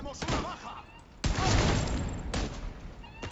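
Gunfire in the video game The Division 2, a few sharp, loud shots with bursts separated by pauses and a roomy echoing tail, no talk.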